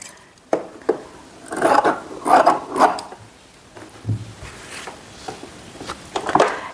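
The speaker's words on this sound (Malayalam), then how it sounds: "ബാക്കി തുണി നമുക്ക് കട്ട് ചെയ്ത് കളയാം അതിനുവേണ്ടി ഞാൻ ഇവിടെ വെച്ച് ഞാൻ കട്ട് ചെയ്യുവാണേ" Scissors snip and rasp through silk fabric in a few short, close bursts while a long blouse is being cut, with pauses and light handling noises between cuts.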